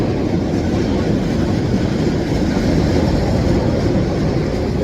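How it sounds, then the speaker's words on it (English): Old Chicago trains rolling past amid street construction, a loud, continuous low rumble and roar filling the whole stretch without a break or any speech. "I noticed that trains are really old"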